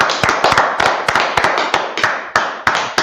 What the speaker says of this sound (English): let's clap it up for the class